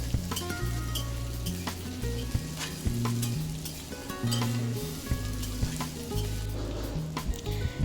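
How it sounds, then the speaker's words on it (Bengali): Leftover rice and egg stirred and frying in oil in a pan, a loud continuous sizzle with repeated scraping and knocking of the spatula throughout. "এবারে এগুলোকে আবারও ভালোভাবে তেলের সাথে মিশিয়ে নেড়ে নিতে হবে"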